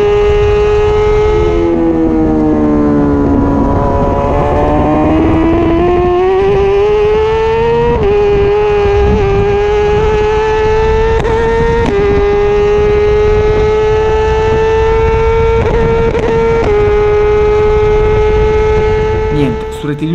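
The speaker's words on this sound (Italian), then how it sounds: "con le interruzioni di corrente e la moto che fa molta più fatica a prendere giri" Racing motorcycle engine in a video game struggling to rev while losing power, a loud, continuous drone that rises in pitch, drops at gear shifts and climbs again, with a voice speaking over it.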